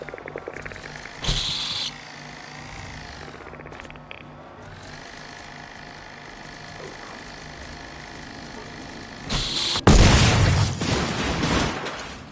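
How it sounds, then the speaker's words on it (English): A tick bomb bursts and destroys a turret in the shooter Generation Zero, one loud, broad blast near the end following a rumbling engine-like drone and a smaller pop. "One tick explosion takes down one turret."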